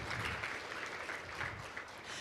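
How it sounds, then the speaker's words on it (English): Brief round of clapping from a modest audience at a meeting, fairly soft and steady for a couple of seconds. "We have applause for these guys."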